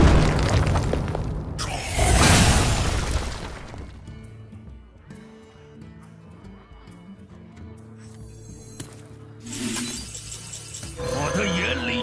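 Explosions go off in the Hearthstone video game, with several loud booming, shattering bursts separated by quieter stretches of game music and effects.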